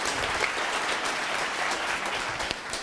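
Audience applause for Jan Meijering at a Solar Team Twente design presentation, a steady dense clapping from a hall crowd lasting the whole stretch with no voices.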